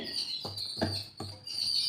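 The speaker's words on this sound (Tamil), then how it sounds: "குருவி தாங்க அப்படி கூட்டமாக சேர்ந்து கத்திகிட்டு இருக்குது." A flock of sparrows chirping together in a quiet evening setting in a home kitchen area, a faint high twittering chorus running continuously, broken by a few dull thuds and knocks nearby.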